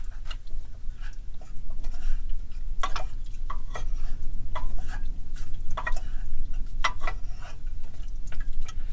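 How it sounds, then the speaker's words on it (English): Food being stirred in a pressure cooker pot over low heat in a van kitchen, with soft irregular ticks and scrapes of a utensil against the pot above a low steady background hum. "I'm going to stir that in."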